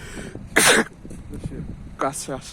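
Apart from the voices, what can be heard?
sneeze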